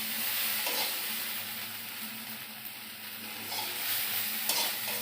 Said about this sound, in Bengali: ভেন্ডি ভাজাটা হয়ে গেছে।